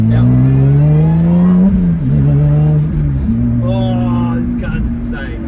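Lotus Exige 350 Sport accelerating hard out of a corner, a loud close engine note rising and falling through rev changes with gear shifts, and a voice talking over it.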